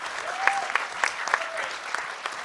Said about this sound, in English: let's give a huge round of applause to all these panelists for staying under 2 minutes largely.